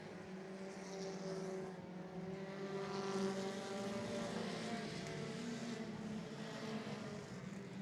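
Race cars circle Barrie Speedway in a late-race pack in lapped traffic, their engines droning as a steady, moderately distant roar with several overlapping engine notes.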